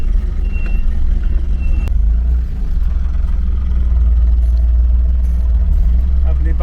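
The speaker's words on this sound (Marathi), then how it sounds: "पटकन गाडी धक्क्याला लावून घेतो, खाली करूया आपली." A truck carrying kokum saplings maneuvers to back up against a loading platform for unloading, its engine a loud, continuous low rumble with a brief sharp hiss near the start.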